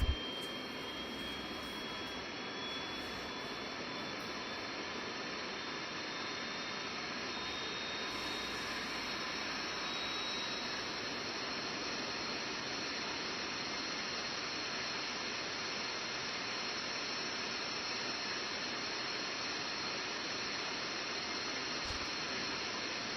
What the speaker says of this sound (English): I'm gonna get some water as this APU starts up. It's a very interesting APU sound.